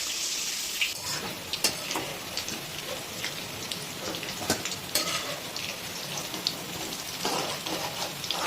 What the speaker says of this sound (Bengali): এগুলো এখনও ভাজা চলছে।